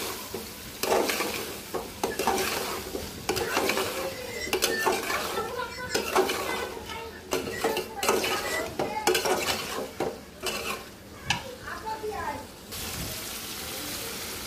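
Beef liver and potatoes stirred in a pan, with a utensil scraping and clattering against the metal in irregular bursts and a wet, churning texture underneath, close and moderately loud, with no talk over it.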